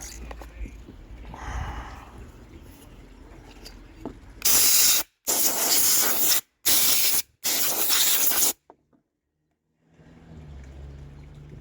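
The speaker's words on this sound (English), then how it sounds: "Some compressed air." Compressed air blasts onto a part from a high-revving 196cc small engine in four loud, harsh hissing bursts a second or so each, close by, with muffled voice and workshop noise before and after.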